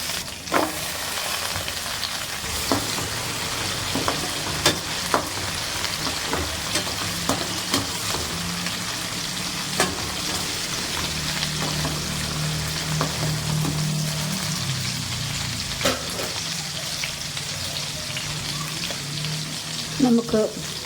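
Ginger and garlic sizzle in a hot pan for a homemade red apple pickle, a continuous frying hiss broken by scattered scrapes and clinks of a utensil, with a low hum running underneath.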